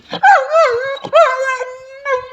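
A dog lets out a few close, high whining howls with drawn-out, wavering pitch, each lasting under a second.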